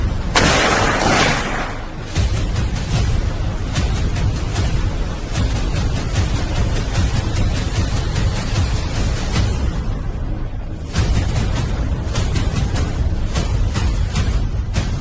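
A dense, loud burst of gunfire erupts as soldiers fire on command at an Indonesian Armed Forces (TNI) 75th anniversary event, sustained broadband cracks and booms continuing almost without pause, briefly dipping before resuming.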